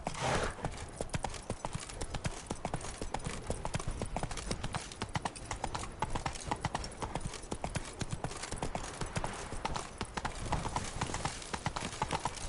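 Roach, a horse in the video game Witcher 3, gallops with steady rapid hoofbeats that stay loud and close throughout, with a faint whinny possible among the continuous clatter.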